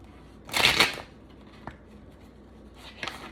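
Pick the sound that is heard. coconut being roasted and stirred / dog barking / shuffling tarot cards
shuffling tarot cards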